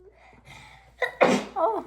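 A single sharp sneeze bursts out at close range in a home kitchen where people are decorating a gingerbread house, preceded by quiet voices and followed by brief talk.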